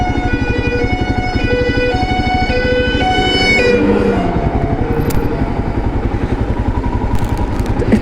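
A Royal Enfield Himalayan adventure motorcycle rides off-road on a muddy track, its engine thumping in a steady fast pulse, loud and close, with gear changes, rattles and brief clatter.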